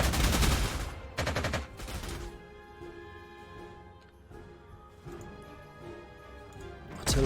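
Gunfire from units in the Panzer Corps 2 wargame: sharp, loud bursts of rapid shots at the start and again near the end, with quieter rumbling combat noise and tonal hum between.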